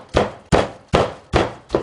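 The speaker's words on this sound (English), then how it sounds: "Just end up pounding it with a rolling pin." A rolling pin pounds chicken breast flat on a kitchen counter, giving five heavy, evenly spaced thuds, each dull and close with a short decay.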